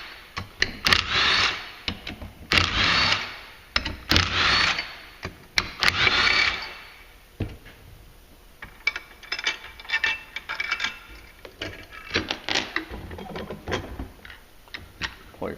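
A ratchet wrench loosens a bolt on the clutch of a Polaris 850 Sportsman ATV, with several bursts of rapid clicking close up, followed by lighter, irregular metallic ticks and handling noises.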